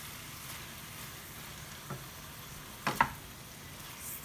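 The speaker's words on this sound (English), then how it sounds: "Stir it very well." Green beans with tomato and onion cooking in a pan give a faint, steady sizzle, with a few soft stirring scrapes near the end and no voices.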